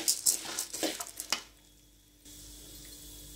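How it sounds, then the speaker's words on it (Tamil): Chana dal roasts in a pan for curry leaf podi, giving soft scattered crackles and rustling stirs over the first second and a half, then a quiet low hum. "அதனால் கொஞ்சம் கடலைப்பருப்பு வறுந்ததுக்கு பிறகு நம்ம வந்து உளுந்து சேர்த்துக்கலாம்."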